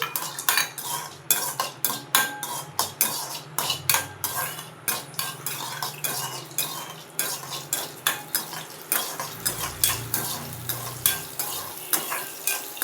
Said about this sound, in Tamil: இப்போது ரவா பொங்கலுக்கு தேவையான அளவு முந்திரி சேர்த்து வறுக்கிறேன்